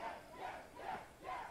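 A crowd chanting in unison in the video game Far Cry 5, four rhythmic shouted calls at an even pace, faint and somewhat distant.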